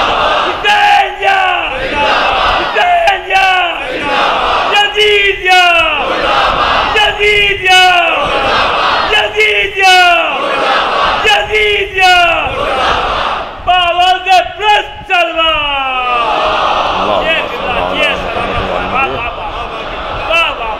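An elderly man at a majlis mourning gathering leads religious slogans. Loud, forceful chanted calls repeat in a steady rhythm about every two and a half seconds, with crowd voices joining near the end.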